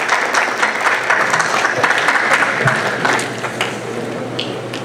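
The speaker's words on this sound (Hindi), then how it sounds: "भाई मेरे सकत्तर साहब जसविंदर ढिल्लो जी के लिए तालियां बजती रहे" Audience at a kavi sammelan poetry event in New York applauds a secretary, a loud, dense patter of many hands clapping that holds steady before easing slightly near the end.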